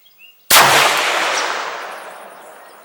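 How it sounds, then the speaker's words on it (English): A single loud 6.5 Grendel rifle shot outdoors, a sharp crack followed by a long, gradually fading ringing echo, after a brief faint sound beforehand. "So let's take a few shots and see what happens."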